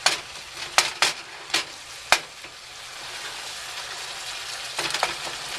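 Ground beef browning in a pan gives a steady, close sizzle and frying hiss, broken by several sharp scrapes and clacks as a utensil stirs the meat, with no talking.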